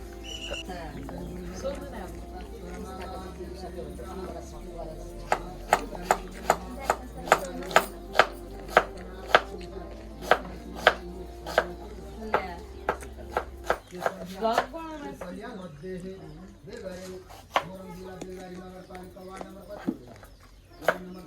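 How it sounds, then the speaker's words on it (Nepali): An onion is sliced with a knife on a board, a run of crisp, evenly spaced chops that speeds up in the middle and then thins out, heard under ongoing talk. "प्याज काट्ने एकदमै सजिलो खालको तरिका"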